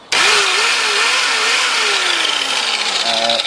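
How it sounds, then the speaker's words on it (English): Angle grinder fitted with a 100 grit flat flap disc spinning up and running steadily while flattening the edges of a DIY side table, a loud continuous whine that sags slightly in pitch as it bears on the workpiece. "I'll quickly take my grinder"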